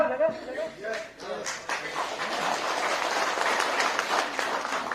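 An audience at a foundation day speech breaks into applause after talk, the clapping swelling into a loud, steady patter that fills the rest of the stretch.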